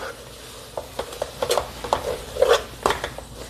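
A spoon stirs a thick rose coconut barfi mixture in a pan, making close, irregular scrapes and soft taps with a faint sizzle beneath. There is no speech.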